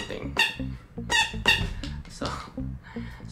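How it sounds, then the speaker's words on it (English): A BlackPink lightstick version 2, hammer-shaped, squeaks in short rubbery chirps each time it is bonked against something, about five quick squeaks in a row, close and fairly loud. "It maintained the squeaky sound that the lightstick makes whenever you bonk it"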